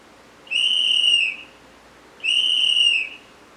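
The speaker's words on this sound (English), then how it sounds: "And that is the sound of a whistle." A whistle blows twice in sharp, loud, shrill blasts of under a second each, with a short quiet gap between them and no talk.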